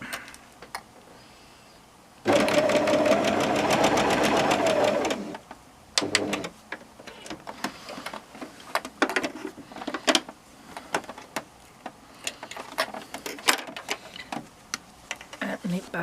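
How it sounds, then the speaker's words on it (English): A sewing machine stitches fabric binding in one fast, steady mechanical whir lasting a few seconds, followed by scattered ticks, clicks and handling noises as the fabric is adjusted. "then you just sew along the line that you creased"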